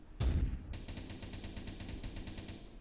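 Gunfire from the blocky shooter video game Blockstorm: a loud opening shot, then a rapid, evenly spaced stream of automatic fire that keeps going for about three seconds with no talking.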